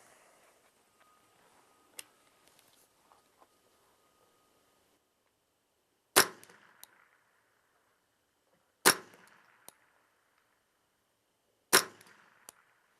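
A little Ruger .22 rifle fires three sharp, loud cracks on an outdoor range, spaced about three seconds apart. Each shot is followed by a faint ring off the targets, with only quiet ticks before the first shot.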